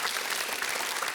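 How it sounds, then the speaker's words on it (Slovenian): Audience applause at the close of a very fast quiz-show game round, dense steady clapping that fills the whole moment with no pauses and no voices over it. "dajte en aplavz"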